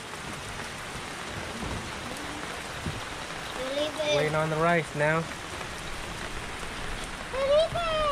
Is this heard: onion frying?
no